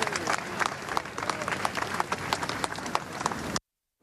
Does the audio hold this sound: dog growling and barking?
no